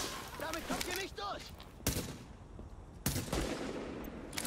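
Sniper rifle fire in the video game The Division, two sharp, loud single shots a little over a second apart, heard over game ambience after someone talking.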